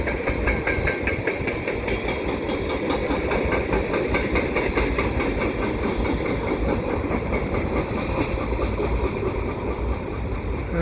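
A CN eastbound mixed freight train passes at Pointe Claire in autumn with a loud, continuous rumble of engines and rolling cars. Steady rhythmic wheel clicks run throughout and no one speaks.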